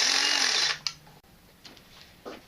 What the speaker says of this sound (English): Alright, Ego hedge trimmer.